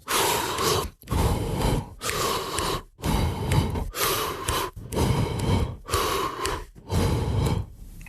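Long, steady exhalations separated by short sharp inhales while jumping rope, four jumps per breath, repeating evenly about seven times, close up with no talking.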